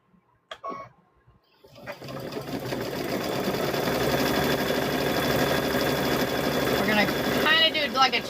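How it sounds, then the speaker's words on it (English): A sewing machine chain-stitches fabric pieces for a fall table runner. After a few soft clicks and a short pause, it whirs up and runs steadily at close range, with a faint voice in the background. "we're just going to keep sewing these"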